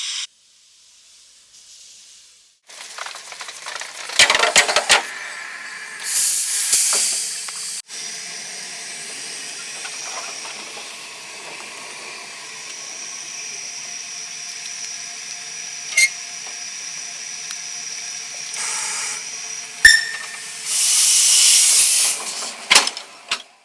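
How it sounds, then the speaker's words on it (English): A steam locomotive being turned at a remote mining-railway stop lets out intermittent loud hissing bursts of steam, with quieter mechanical clanks and a low background hum between them, and no voices. "At Double Barrel, the loco needs turning."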